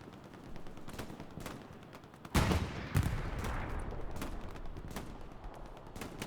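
Distant automatic gunfire in the Hell Let Loose video game, with a Thompson submachine gun among the shots: scattered bursts crackle throughout, with two louder nearby reports cutting in partway through over a steady battlefield din.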